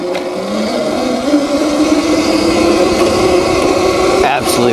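A HeyBike Villain 52-volt electric dirt bike riding on wooded trails, giving a steady, fairly loud motor whine with tire and trail rumble that lasts throughout and rises slightly near the end.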